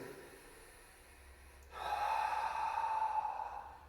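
After a karate kata, a performer takes a recovery breath: a quiet start, then one long, loud, breathy exhale close to the mic lasting about two seconds.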